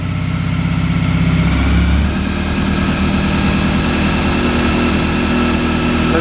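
A multi-cylinder Honda motorcycle engine idles close by, loud and steady with a rapid, even low-pitched exhaust pulse throughout.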